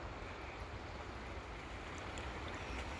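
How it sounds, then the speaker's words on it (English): A small creek flows beneath a bridge on a walk from a pavilion toward a ridge house, giving off a faint, steady wash of running water with no voices. "And there's the little creek that the bridge is going over."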